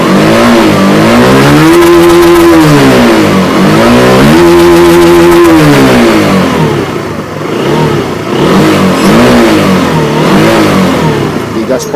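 A motorcycle engine with a newly replaced TPS sensor revs hard at full throttle, loud and close, its pitch climbing and falling in repeated sweeping surges.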